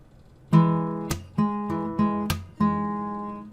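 Fingerstyle acoustic guitar plays a short lick from a song, five plucked notes and chords with ringing sustain, close and clear, with no speech.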